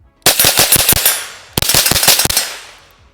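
Two rapid strings of .22LR hollow point rounds fired from a Taurus TX22 pistol outdoors, each burst of about five to six sharp, close, loud cracks in quick rhythm, separated by a short pause.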